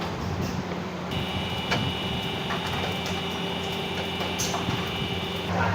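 Idiyappam dough-pressing machine switched on and running, producing a steady mechanical hum with a sustained whine that begins about a second in and holds continuously, close by.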